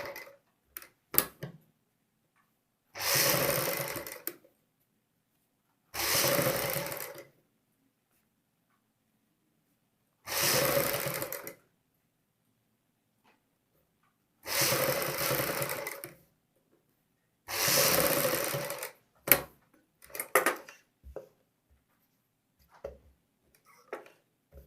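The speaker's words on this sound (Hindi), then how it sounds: "सिलाई हम कच्ची सिलाई लगाएंगे" A sewing machine runs a basting stitch along a kameez collar in five short, separate bursts of close whirring with quiet gaps between them, followed by a few faint handling clicks.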